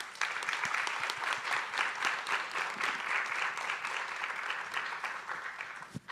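Applause from a symposium audience welcoming a panel, a steady full clapping from a crowd lasting several seconds with no talk over it.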